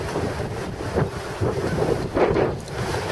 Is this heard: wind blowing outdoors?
yes